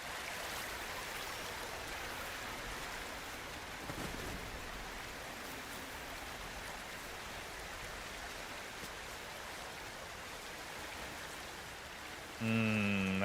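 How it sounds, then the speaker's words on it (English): Steady rain falling in the climbing game Cairn, a continuous soft hiss of drops with no voices, a brief tonal chime near the end. "I don't much like that it's raining, but we don't really have a choice."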